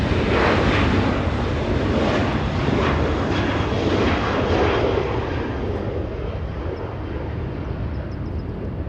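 Southwest Airlines jet bound for Denver, heard as a loud, broad jet roar that swells and then slowly fades as the aircraft passes near an airport, with gusts of wind buffeting the microphone.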